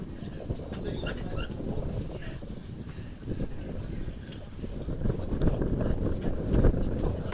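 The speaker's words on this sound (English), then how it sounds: "Enjoying the wind." Continuous wind buffeting and rumbling against the microphone, growing a little stronger toward the end, with faint distant chirps in the background.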